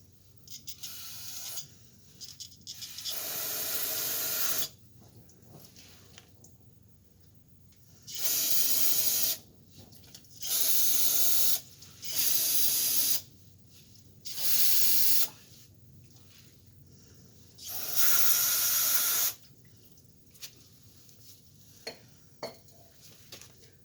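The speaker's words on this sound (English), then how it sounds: "Spray this over a couple times." An aerosol cleaner hisses out several separate sprays, each a second or two long, on a Dana 60 axle during a gear oil change, with quiet pauses and faint handling noises in between.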